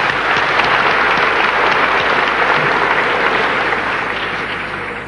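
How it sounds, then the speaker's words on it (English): Sustained applause from an audience at a lecture and debate session, a dense, steady wash of clapping that holds loud throughout and only begins to thin slightly toward the end. "We must give him another applause."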